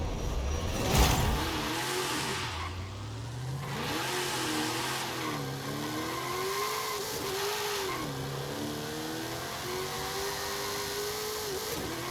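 A Chevrolet Nova drag car launching and accelerating in Forza Horizon 5, the engine note climbing and dropping through several gear shifts, loud and continuous, with a brief burst of tire noise at the launch.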